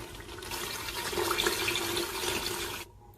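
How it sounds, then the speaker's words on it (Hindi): Water pours steadily into a pot of black gram curry, a soft continuous splashing rush lasting about three seconds before stopping abruptly. "तो चलिए अब हम इसमें पानी शामिल कर लेते हैं।"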